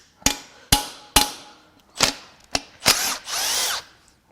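A power tool drives a T40 Torx fastener on a Volvo twin-charged engine in short sharp bursts, several quick impacts followed by a longer whirring run, close and clear with no talk.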